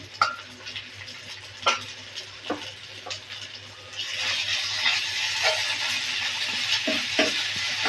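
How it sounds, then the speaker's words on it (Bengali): Browned onion with green chili, garlic and ginger paste fries in a pan, with spatula scrapes and knocks; the sizzle swells louder partway through and continues under further stirring. "মশলাটা সুন্দর মতো কষাতে হবে"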